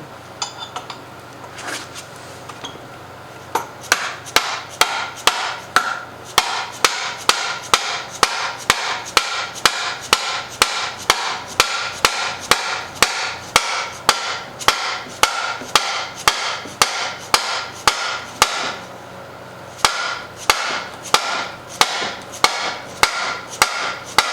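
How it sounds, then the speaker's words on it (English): Steady, rapid hammer strikes ring out close by, dozens of sharp metallic blows in an even rhythm, with a short pause before they resume. "Get an impact hammer."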